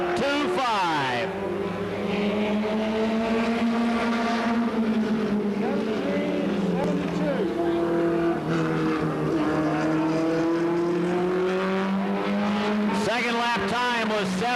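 A Goody's Dash race car laps the track at Anderson, South Carolina, during 1988 qualifying for the Winston 100. Its loud engine drones steadily, the pitch climbing and falling as it accelerates and slows through the corners.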